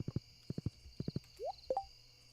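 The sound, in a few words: horse clip-clop in Stardew Valley video game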